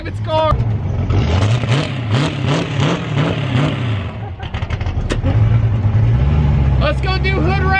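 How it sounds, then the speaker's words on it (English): An SBF turbo Mercury Cougar idling and revving loudly up close, engine pitch rising and falling in repeated pulses, with people talking over it partway through. "we're gonna go drive David's car"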